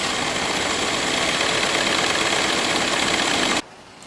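The 2006 Volkswagen Passat TDI diesel engine idles with a loud, steady clattering hum, then cuts out abruptly just before the end, leaving near silence.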